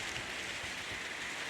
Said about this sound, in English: actually it's raining